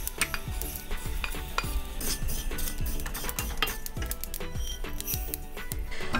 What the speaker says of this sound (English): So I'm just going to remove it to my bowl.